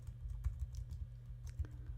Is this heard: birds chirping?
no